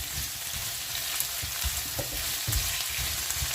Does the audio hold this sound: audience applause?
no